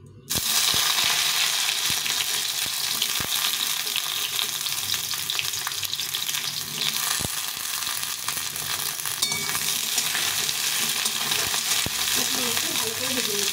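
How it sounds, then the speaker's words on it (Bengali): Pointed gourd (potol) pieces frying in a pan, a steady close crackling sizzle with scattered stirring clinks and scrapes throughout, no talking. "এখন আমি এই পটলগুলো ভেজে নেব।"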